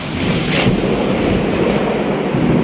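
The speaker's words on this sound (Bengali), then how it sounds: "তোমরা বৃষ্টির আওয়াজ, মানে এই ঝড়ের আওয়াজটা পেয়েছো?" Thunder rolls as a deep, steady rumble during a rainstorm, continuous and fairly loud for under three seconds, with the hiss of rain beneath it.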